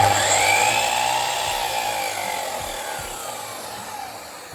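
The blade of a DeWalt DSW727 miter saw spins freely with a close, steady mechanical whine and a high tonal hum, gradually fading in level over a few seconds.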